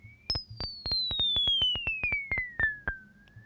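A synth tone panning from one side to the other plays as a rapid series of bright, evenly spaced pulses on a slowly falling pitch, clean and fairly quiet with no talking.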